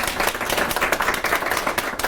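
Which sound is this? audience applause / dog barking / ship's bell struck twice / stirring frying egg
audience applause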